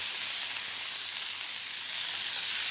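Ivy gourd (kundru) sizzling in hot oil with turmeric in a pan as it is stirred, a steady bright frying hiss running unbroken and fairly close throughout, with no voices.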